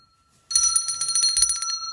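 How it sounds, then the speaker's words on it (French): A bicycle-style bell rings sharply after a moment of quiet, a bright rapid trill lasting over a second, loud and close with nobody talking. "Elle est où ma cloche?"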